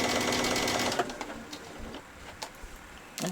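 A sewing machine runs a row of stitches on a child's dress in one close, steady whir for about a second, followed by quieter clicks and handling.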